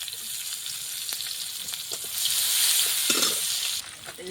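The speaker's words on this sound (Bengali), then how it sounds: "কাঁচা পেঁয়াজ তেলের উপর দিয়ে দিলাম মাছ ভাজার তেল আছে" Raw onion fries in oil left over from frying tilapia fish, giving a close, steady sizzle and crackle that swells louder partway through before easing, with no voices.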